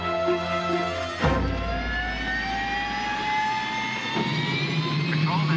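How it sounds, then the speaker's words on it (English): A jet aircraft engine spools up, a loud rising whine climbing steadily over a deep roar that starts abruptly and builds continuously throughout. "they're starting the engine. They're firing up."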